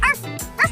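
A person imitates a dog barking for a shadow puppet of a dog, giving two short voiced yaps close up in a quiet room.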